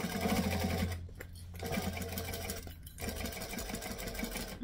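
A sewing machine stitches a panel beach bag in fast, rhythmic bursts with brief pauses between runs, close and steady.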